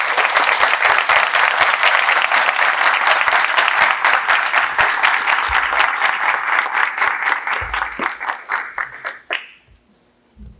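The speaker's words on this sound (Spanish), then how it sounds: "Entonces yo pido para él otro aplauso." An audience at a declamation gathering breaks into sustained applause for Eduardo, loud dense clapping that thins into scattered claps and stops, with a brief shout.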